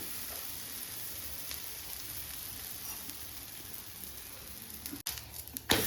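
Maharashtrian thalipeeth fries in oil on a pan with a steady close hiss and fine crackle, ending in a few sharp knocks and clatters of a utensil.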